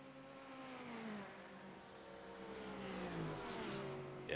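Porsche race car engine in a racing video game, a quiet steady drone that rises and falls with revs and gear changes as the car runs a lap, with no voices.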